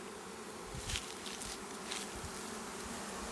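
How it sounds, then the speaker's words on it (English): Honeybees from a newly installed package swarming thickly in a hive on foundation frames, a steady dense buzzing drone, close and continuous, with occasional louder passes of individual bees. "because you've got a ton of bees down bottom"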